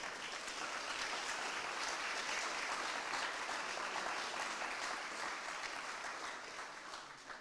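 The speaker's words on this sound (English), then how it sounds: "Let's give all of our symposium participants a round of applause." Steady crowd applause, dense and sustained throughout, tapering slightly toward the end with no voices over it.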